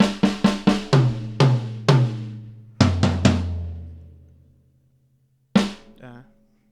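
Acoustic drum kit playing a one-bar fill of sixteenth and eighth notes, a quick run of sharp tom and snare hits followed by spaced strikes ringing out, then a final crash after a pause.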